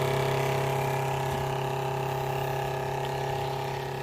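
A Kickass low-wattage water pump motor runs steadily while filling a caravan tank off-grid, giving a constant close hum with a firm tonal whine and no change in pitch or rhythm.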